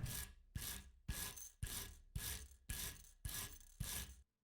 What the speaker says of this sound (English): That little washer's getting such a nice little brushy down.